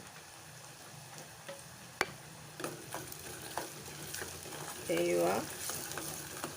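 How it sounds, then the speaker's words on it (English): Onions frying in a pan with rock salt for tomato sambol, giving a soft continuous sizzle broken by scattered taps and clinks of a spoon stirring, plus a brief scrape near the end and a short spoken phrase. "the onions have come along really well, just the way we want it. See, it's nicely fried"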